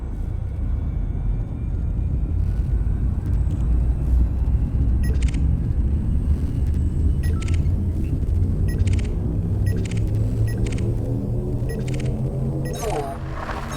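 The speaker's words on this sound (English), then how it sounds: "Fuel scoop disengaged. Frameshift drive charging." A video game frame shift drive charges up: a deep rumbling hum whose layered tones climb steadily in pitch over several seconds, with faint intermittent clicks above, ending in a bright surge.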